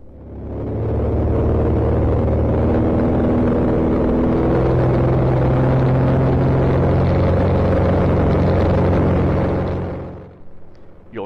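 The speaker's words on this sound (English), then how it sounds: "Listen to the engine." A loud, steady RV-14 light aircraft engine roar with deep harmonic drone holds at full power for about ten seconds during taxi testing, then cuts off abruptly.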